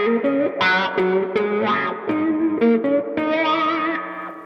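Electric guitar with distortion and effects plays a song intro slowly, close and loud, with bent, sustained notes and short pauses between phrases and no talking.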